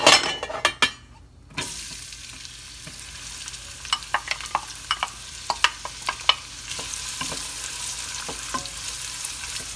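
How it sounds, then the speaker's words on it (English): Chopped onion goes into hot oil on a stovetop while cooking a maize and beans dish, starting with a loud burst of crackling and then settling into steady sizzling with scattered sharp pops and stirring sounds, with no voices. "I have the oil heating up on the stove, and I'm going to add the onion"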